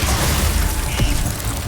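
Glacius, a freezing spell in Hogwarts Legacy, bursts with a loud, crackling, icy shattering texture, a sharp snap near the middle, all alone and dense throughout.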